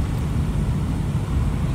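A Nissan UD truck engine runs through a gear change, with a loud, steady low rumble and no other sounds.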